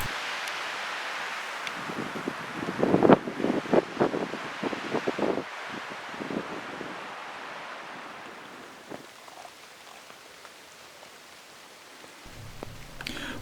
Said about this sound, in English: It was windy with spotty rain.